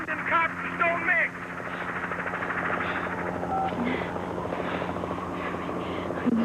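A helicopter's steady, whirring drone runs through the whole stretch in gusty wind, holding at a moderate level beneath people talking.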